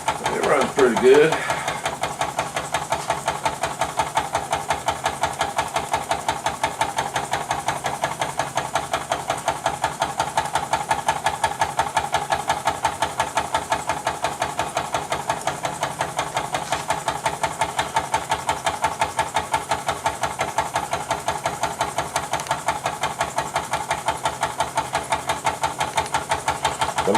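A Jean Comby steam engine runs steadily, with a rapid, even mechanical beat and a constant hissing wash that hold at the same level for the whole stretch, with no pauses or changes in pace.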